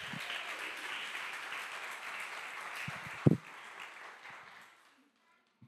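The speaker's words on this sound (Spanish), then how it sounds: "Aplaudir un poco porque os veo dormidos" A church congregation applauds in a dense, fairly quiet patter that gradually thins out, with a louder thump near the middle before the sound fades to silence.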